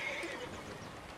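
A horse whinnies briefly and close by in Red Dead Redemption 2, a short, loud neigh with some low shuffling beneath it.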